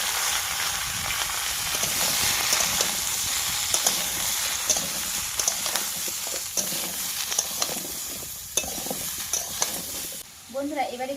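Chopped vegetables go into a hot pan with onion and five-spice, hissing and sizzling loudly throughout with repeated stirring clacks, close and steady until the noise briefly drops at the end.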